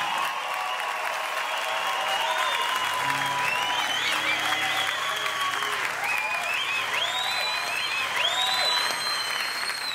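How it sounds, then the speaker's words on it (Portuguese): Steady, sustained applause from a large audience at an MTV acoustic concert, dense clapping with crowd noise and occasional whistles throughout. "Palmas e mais palmas."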